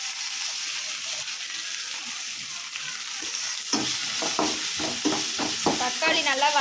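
Chopped tomatoes go into a hot pan of ginger garlic paste, sizzling loudly and steadily with a run of sharp stirring scrapes toward the end.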